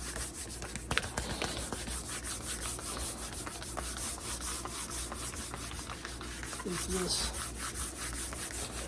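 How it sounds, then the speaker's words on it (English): Copy paper rubs briskly against a surface to polish and round off square edges, producing a continuous close, soft scratchy friction that runs steadily without pause. "all we're doing basically with this is we're just kind of polishing those edges, making those square edges kind of rounded off"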